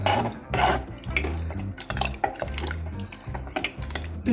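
A spoon stirring poori potato masala in a metal pot, rhythmic scraping and clinking strokes repeating steadily at close range with no talk.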